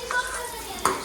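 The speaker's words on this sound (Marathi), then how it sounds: "आता जो कांदा आता 1 नंबर फ्राय होईल" Onion frying in a pan for a simple desi-style macaroni, a steady sizzle with brief stirring scrapes near the start and end, close and moderately loud.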